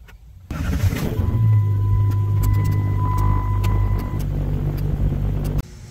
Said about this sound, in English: it sounded like the motor was struggling a little bit